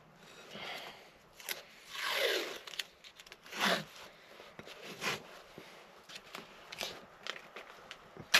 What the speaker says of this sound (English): So we'll do like 4 layers of tape on all sides.